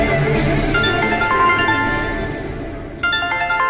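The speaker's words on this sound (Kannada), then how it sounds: "ವಿಜಯ್ರ ಅಪ್ಪ ಫೋನ್ ಮಾಡ್ತಿದ್ದಾರೆ." An incoming call rings on a phone in an indoor domestic scene, a bright electronic ringtone melody playing loudly and continuously with a short pause before it resumes.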